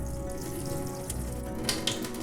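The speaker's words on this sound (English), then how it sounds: "I'm gonna throw away this top part of the water." Soaking water is slowly poured off azuki beans in a home kitchen, making a faint, continuous trickle with a couple of brief splashes near the end.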